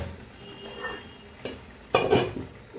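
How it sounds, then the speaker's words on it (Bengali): Fried fish roe added to a curry pan on a kitchen stove, producing a few faint clinks and scrapes of a utensil against the metal pan, with one louder clatter near the end. "মাছের যে ডিমটা ভাজি করে রেখেছি, ডিমটা এখন দিয়ে দিচ্ছি, দিয়ে চাপা দিয়ে রেখে দেব লো হিট।"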